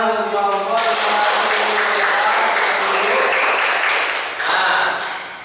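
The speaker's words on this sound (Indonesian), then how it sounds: "Boleh tepuk tangan untuk semua kelompok." A classroom of student groups breaks into lively, continuous applause for several seconds, loud and close, with a voice briefly heard at the start and a renewed swell near the end.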